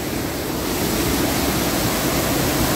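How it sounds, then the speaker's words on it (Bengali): Bhatinda waterfall, a large volume of water falling, making a loud, steady, broadband roar heard up close with no talking. "এই হচ্ছে সেই ভাতিন্ডা ওয়াটারফল"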